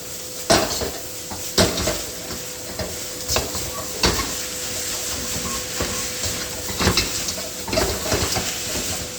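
Instant ramen noodles being tossed with sauce in an oiled pan, loud and close: repeated metallic clanks and scrapes of utensil on pan at an uneven pace over a steady sizzle, with no speech.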